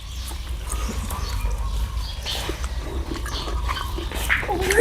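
A dog whimpers and gives short barks amid outdoor background noise, growing somewhat louder toward the end, with no talk over it.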